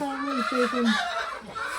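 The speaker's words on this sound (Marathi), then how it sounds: "हे कोंबड्याचा कालवा" Chickens clucking close by, with a rooster's drawn-out call rising and falling over a brief stretch.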